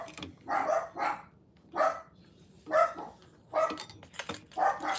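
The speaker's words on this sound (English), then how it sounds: "excuse my dogs, guys." Indoor dogs bark repeatedly in short bursts, about six yaps spaced roughly a second apart at moderate distance, against a quiet room background.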